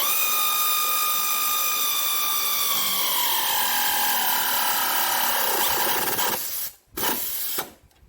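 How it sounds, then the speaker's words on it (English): A pneumatic air ratchet works on Polaris suspension bearings, giving a loud, close whirring rattle whose pitch sags as it slows, then cuts out and returns in two short bursts. "since I got this air ratchet"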